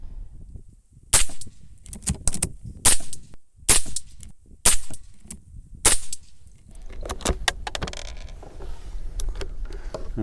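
Derya TM22 lever action .22 rifle firing Remington bullets at a target, six sharp loud shots spaced about a second apart, followed by clattering lever and handling noise.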